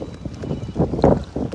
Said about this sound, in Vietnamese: Gió về đằng này nên là nó hơi bị ngược gió nhỉ.